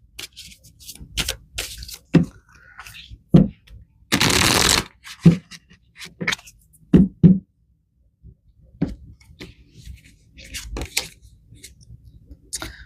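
A deck of tarot cards is shuffled in crisp, close bursts of riffling and tapping, with one longer continuous riffle midway and scattered knocks between, recorded alone without talk.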